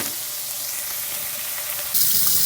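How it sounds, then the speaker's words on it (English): Hot water runs from a kitchen tap into a sink after cooking, a steady broadband rushing hiss that grows louder and brighter near the end as the flow strengthens. "Make sure you get your hot water running and let it run for a bit."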